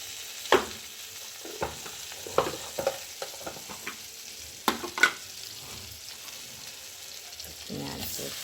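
Crushed garlic fries in butter in a pan, a quiet sizzle broken by scattered clicks and taps of stirring, close and fairly soft.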